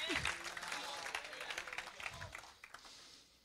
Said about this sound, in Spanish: Dale ese aplauso al Hijo de Dios.